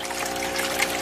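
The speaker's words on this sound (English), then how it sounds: "a recirculating little small pond pump right here that pumps the water right back up" A small recirculating pond pump sends water trickling back into a tub, producing a steady, close, continuous dribble with no pauses.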